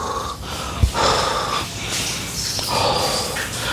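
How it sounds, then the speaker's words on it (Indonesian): Heavy, out-of-breath panting comes close and loud, with rough wheezing breaths repeating in an uneven rhythm several times. "udah mulai ngos-ngosan"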